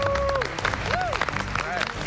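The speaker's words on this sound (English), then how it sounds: "Give yourselves a round of applause." A group of MasterChef US cooking contestants applauding in the studio kitchen: moderate clapping under louder talk and some rising and falling tonal sounds.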